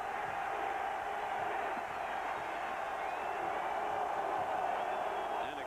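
A college football stadium crowd at a 1988 West Virginia versus Penn State game roars in a loud, continuous, dense wall of cheering that holds steady throughout.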